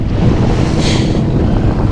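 Wind and waves buffet a small fishing boat out on open water in stormy weather while trolling for coho salmon, a loud, constant roar of gusts and spray close to the microphone.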